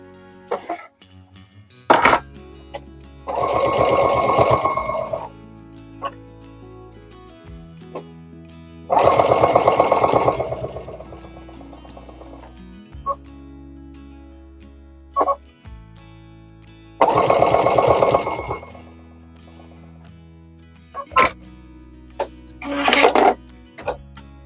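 A sewing machine stitches binding onto a trimmed quilt in four loud, sustained bursts of rapid whirring, with quiet handling clicks and pauses between runs.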